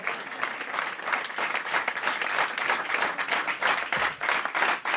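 A church congregation applauds during a service, a steady, dense wash of many hands clapping at moderate loudness throughout, with no speech over it.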